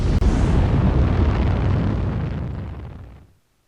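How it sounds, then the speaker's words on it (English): Explosions and weapons fire in the naval and air warfare game C:MANO, a continuous roaring blast that starts loud and full, then rumbles on and slowly fades to quiet after about three seconds. "And they're about to fire on the fox bats."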